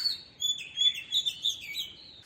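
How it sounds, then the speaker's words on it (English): Small birds chirp at dawn, a quiet series of high, thin tweets and short trills repeating in quick bursts against a faint, calm background. "Indian parakeet, pigeons, crows are a few names that I can identify"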